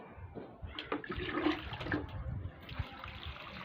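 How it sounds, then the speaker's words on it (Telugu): Water poured from a bucket onto garden plants, a splashing, gurgling pour at close range with uneven surges that keep going without a break and fade slightly toward the end. "ఇదిగోండి వాటర్ పోస్తున్నాను."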